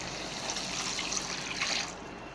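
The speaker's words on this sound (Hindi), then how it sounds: "अब हम इसमें 1 गिलास पानी शामिल करेंगे।" A glass of water is poured into a simmering egg and chickpea curry masala, a steady close trickle and splash lasting about two seconds before tapering off.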